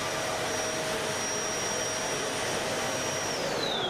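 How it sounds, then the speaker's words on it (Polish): A vacuum cleaner runs steadily, a loud continuous whooshing drone with a constant motor whine and no pauses or talking. "używamy odkurzacza. Włączymy go na chwilę. Działa."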